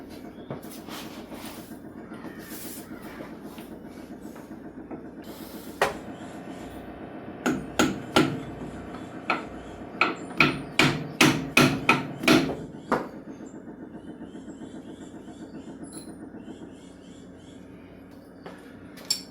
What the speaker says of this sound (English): maybe a little rubber mallet action to get it in there